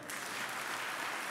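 Audience at a State of the State address breaks into sustained applause for state commissioners, a dense wash of clapping from a large indoor crowd.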